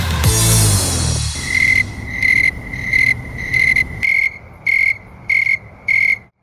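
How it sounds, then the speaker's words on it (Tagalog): Crickets chirp at night in the Philippine countryside in loud, evenly spaced bursts of high trilling, with a louder burst of noise at the very start before the insects carry on alone. "gabi-gabi mong naririnig ang huni ng mga crickets o kuliglig sa Tagalog"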